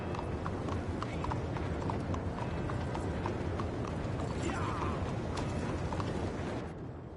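Horse hooves clip-clop steadily in Red Dead Redemption 2, a continuous close rhythmic gait with faint creaks over a dense low rumble, fading slightly at the end.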